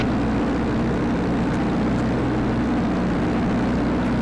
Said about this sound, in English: All right, we're going to do a run-up. We got the Continental Titan.